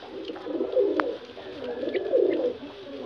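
Soft, low pigeon coos rise and fade in two rounded bursts in a pigeon loft over a quiet background, with a brief sharp tick partway through.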